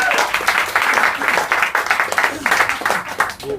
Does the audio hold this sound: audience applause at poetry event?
yes